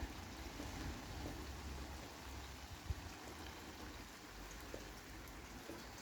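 Steady rain falls outdoors in a garden, a soft continuous hiss of drops with occasional louder patters, fairly faint and even throughout with no one speaking.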